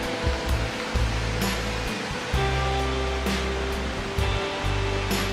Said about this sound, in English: I don't know whether you can see the creek down there or not, but I'm pretty sure you can hear it.